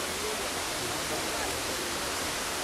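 Kintampo Waterfalls in Ghana roaring as a dense, constant hiss of falling water, steady and fairly close with no pauses.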